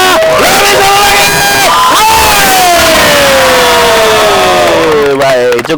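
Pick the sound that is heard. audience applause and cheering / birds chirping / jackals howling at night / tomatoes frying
audience applause and cheering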